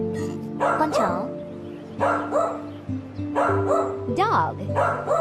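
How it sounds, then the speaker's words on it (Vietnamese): A dog barks repeatedly in short, sharp bursts about a second apart, loud and near, over a light background tune. "Dog."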